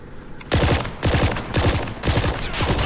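Gunfire in Call of Duty Mobile, a new Renetti pistol featured, crackles in loud rapid bursts of about four separated volleys, each a fast string of close sharp shots over steady game background noise.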